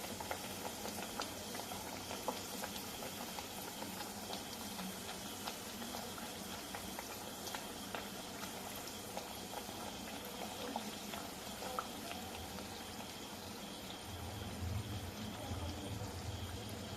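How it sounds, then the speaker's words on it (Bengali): Potato puris deep-fry in hot soybean oil in a kadai, giving a faint, steady bubbling sizzle that runs throughout with light crackles and no talk. "এখন আমি আলু পুরিগুলো তেলে ভেজে নেব।"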